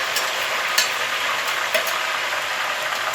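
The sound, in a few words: sizzling boiling oil while making kachenna hair oil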